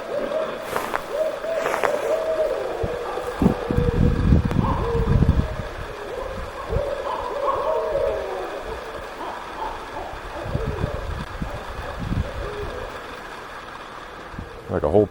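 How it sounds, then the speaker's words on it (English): Owls hoot repeatedly near a river at Grand Lake Stream, a series of low calls carrying through the air over a steady wash of flowing water, with a few other sounds around them. "Like a whole parliament of owls behind me."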